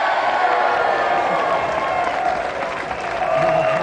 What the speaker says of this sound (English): Another round of applause for our winner